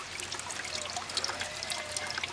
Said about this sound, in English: Little drip tube right here running into the bucket